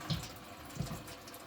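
Gasoline spilling from an overfilled Volvo V70R AWD fuel tank into a catch pan, a faint splashing liquid pour with two small surges.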